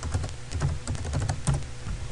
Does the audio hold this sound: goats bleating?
no